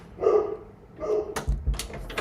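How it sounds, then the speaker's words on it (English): Large dogs give a couple of deep, fairly close barks, followed by shuffling and knocking noises nearby. "I have very, very large dogs, you guys."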